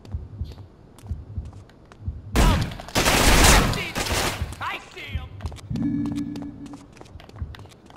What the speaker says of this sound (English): I did shoot him, but it didn't kill him.